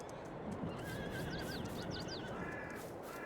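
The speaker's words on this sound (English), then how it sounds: "That makes me think I missed a horse here somewhere." Horse neighing in the Farming Simulator video game, several quick whinnies over a steady bed of ambient farm noise, with no talking.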